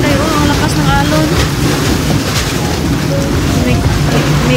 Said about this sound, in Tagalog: Tingnan yung mga Inday, oh, ang lakas ng alon.